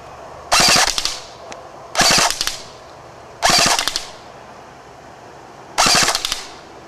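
Classic Army G36-C airsoft gun firing four short automatic bursts at a 50-foot range, each a rapid clattering string of shots separated by pauses.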